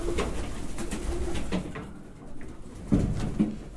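Pigeons coo softly in a pigeon loft, giving a few low rolling calls near the end over a faint background of shuffling, with no speech.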